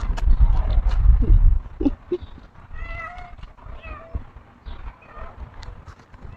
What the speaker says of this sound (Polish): O, patrzcie, kotek.